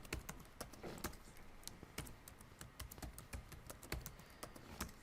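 Password being typed on a computer keyboard while setting up a VNC server on CentOS 7, a close, quick, irregular run of light key clicks with a few heavier strikes and no talking.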